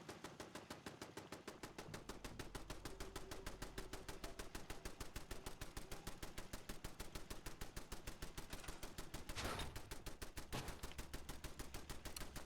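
Rapid, evenly spaced automatic gunfire in a video game runs nearly nonstop, a dense mechanical rattle with a brief louder burst partway through, no talking.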